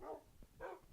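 Dogs in a video game bark twice in short, soft bursts, fairly faint against a low background hum.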